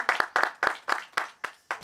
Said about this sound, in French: On peut applaudir pour ces deux-là?